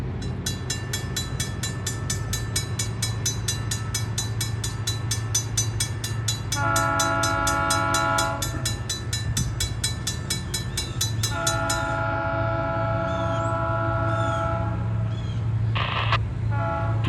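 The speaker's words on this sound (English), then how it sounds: "here comes the train" A train rumbles past close by with rhythmic clatter, its horn blasting in two long chords midway and a brief squeal near the end.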